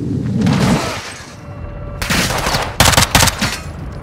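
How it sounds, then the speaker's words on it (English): A grenade explosion and heavy gunfire in Call of Duty: Modern Warfare II crash in loud, dense bursts, with a booming blast early and then rapid close automatic fire in repeated volleys. "Oh, grenade."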